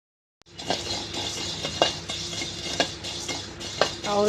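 Flattened rice (aval) roasting in a pan, stirred with a utensil that scrapes and clinks against the metal in steady repeated strokes, with a soft patter of grains throughout and no talking.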